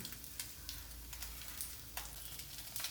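Mackerel frying in a pan of hot oil, a steady crackling sizzle with scattered sharper pops and spits, close and fairly quiet.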